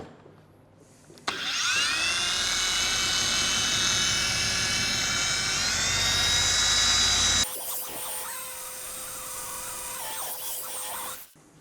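Rotary polisher spinning a pad on oxidized car paint, starting abruptly with a loud steady high whine that holds for several seconds, then shifts to a lighter, different-pitched running tone before stopping; no talking.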